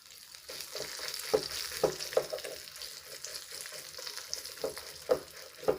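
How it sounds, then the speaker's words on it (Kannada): Hot oil sizzling steadily with scattered sharp pops and crackles as mustard seeds, asafoetida and chillies splutter in a tempering for majjige huli, close by and without talk. "ಒಗ್ಗರಣೆ ಹಾಕಾಯಿತು"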